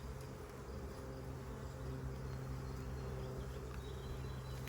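Honey bees buzz in a steady, dense drone around an opened hive, close and continuous with no pauses and no talking.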